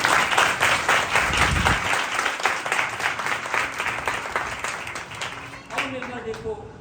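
A church congregation at a Sunday service breaks into loud, sustained applause, dense clapping filling the room for several seconds before fading toward the end, with a few voices mixed in.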